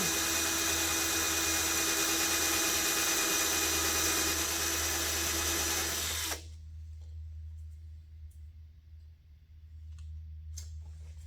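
A loud, whining power drill with an old bit runs continuously for about six seconds through a double wall of a 1968 C10, then cuts off abruptly, leaving faint handling noises and quiet room tone.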